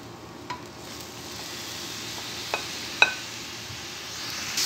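Vegetables and onions fry in a pan with a steady, moderately loud sizzling hiss and a couple of small crackles and taps.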